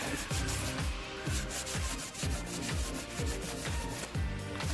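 A Subaru EJ cylinder head being hand surfaced by rubbing it across an abrasive flat surface. Steady, close, rhythmic back-and-forth scraping strokes repeat roughly twice a second, with no talk.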